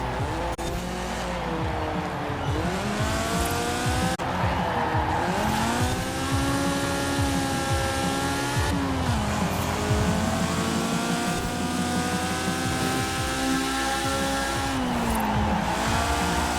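Honda S800 racing in the video game Forza Horizon 4, a high buzzing engine revving up and down through gear changes without pause, with tire squeal in the corners.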